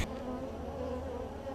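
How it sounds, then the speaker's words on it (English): A dense, steady buzz of many honeybees crowded inside a hive box, droning continuously at close range with no voices. "There is all of a sudden a lot of bees in this box"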